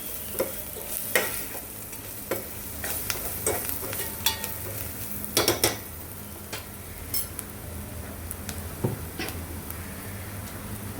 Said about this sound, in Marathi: धणा पावडर, चांगलं परतून घेऊया